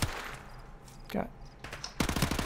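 Rapid automatic gunfire from a first-person shooter, Call of Duty: Modern Warfare Remastered campaign, bursts loud near the end after quieter scattered shots and game noise, with a player's voice talking earlier.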